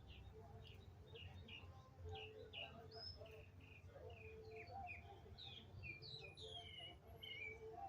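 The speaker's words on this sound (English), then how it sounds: "sometimes I sit out here and just listen to the birds talk." Several small birds chirp and tweet repeatedly outdoors in Atlanta, quick high calls scattered over faint background noise.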